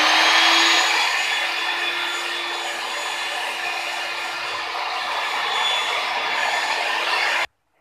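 An electric hand mixer beats white forest cake batter with oil, giving a steady, loud motor whine that holds unbroken throughout before cutting off abruptly.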